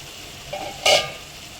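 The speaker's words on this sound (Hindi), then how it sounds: "लगभग जो है वो हमारा मसाला भून चुका है।" Masala frying in a pan for a lobia (black-eyed pea) curry, heard as a short soft scrape followed by a brief burst of sizzling and stirring, close and alone with no talk.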